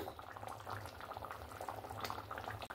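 Potato curry bubbling steadily in a pot, with a continuous close, moderately loud boil and no one talking.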